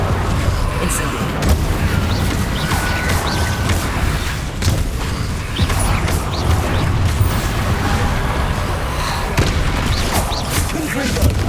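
Incendio and Confringo spell blasts in Hogwarts Legacy combat: repeated booming impacts and crackling bursts at an irregular pace, layered with shouted voices and battle clatter.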